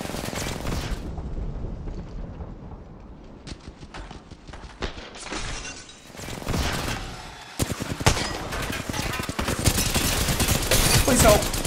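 Gunfire from a Reactive Flatline rifle in the video game Valorant: rapid bursts of close, loud automatic shots. Game effects and a talking voice run underneath at times.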